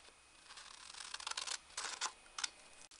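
Scissors cutting an apron shape out of material for a doll, a faint close series of crisp snips and rustles in an uneven rhythm.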